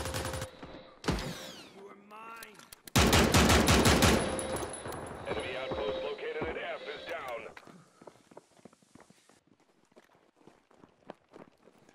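Rapid gunfire bursts in the World War II shooter United 1944, loud and dense around the middle and mixed with footsteps and game effects, then thinning to scattered distant shots under ongoing speech.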